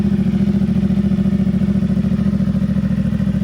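A CFMOTO 450SS motorcycle fitted with a slip-on exhaust idles steadily close by, its even, rapid pulsing engine note staying loud and constant throughout, with no voices.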